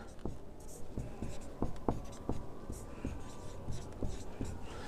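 Pen scratching on paper as a school application letter is handwritten, a steady run of short strokes and taps close up, with quiet room tone and no talk.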